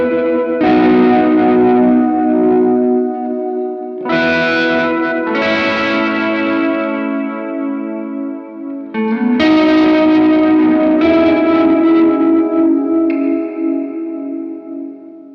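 Guitar played through a reverb pedal on a budget JHS 3 Series worship pedalboard, set to a shorter decay and smaller room: loud sustained chords in several strummed phrases, each ringing out with a modest tail, no voices.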